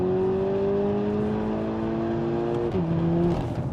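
A Stage 1.5 tuned VW T-Roc 2.0 TSI R making 390 hp, fitted with an Akrapovic exhaust, accelerates hard with a loud, close, steady engine drone, then a quick gear change near the end before pulling again.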